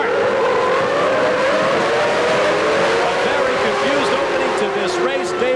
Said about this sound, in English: Nevertheless, the revs come up, and we have a start.